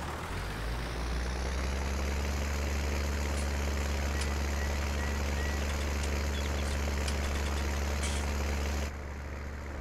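Small tractor engine in Farming Simulator 19, a steady low droning rumble running continuously and close, with faint clicks over it and a slight change just before the end.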